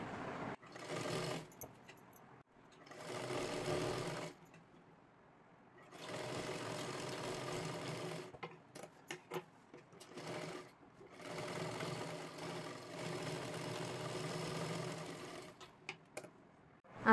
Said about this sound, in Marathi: खालीपर्यंत शिलाई मारून घ्यायची आहे.